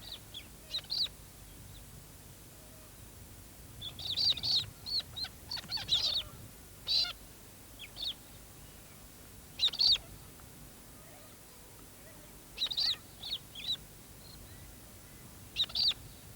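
Young cockatoos in an Australian tree give short, sharp chirping calls in scattered bursts, some single and some in quick clusters, moderately near over a quiet background.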